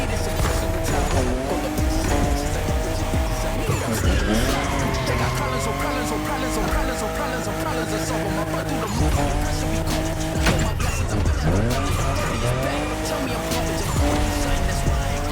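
Toyota Supra fifth generation drifting in The Crew Motorfest racing game, engine roaring loudly and steadily with long sustained tire squeals rising and falling throughout, a voice talking over it.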